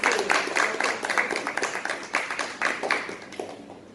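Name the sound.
audience applause welcoming panelists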